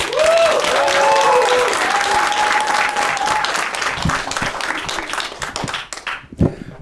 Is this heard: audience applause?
yes